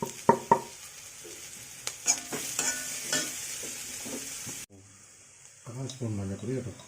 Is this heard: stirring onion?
yes